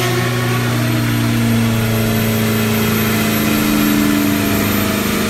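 A remapped Isuzu D-Max 1.9 diesel pickup engine revved at full throttle, a loud, steady, close-up drone with strong tonal harmonics held throughout without a break.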